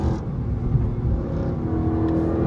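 A Dodge SRT engine drones steadily at close range through a downshift, a low continuous engine note without sharp peaks and with no talk over it.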